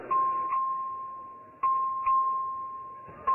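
A voting bell in a legislative chamber rings for a record vote in repeated strikes, each fading slowly before the next, clear and steady with no talking.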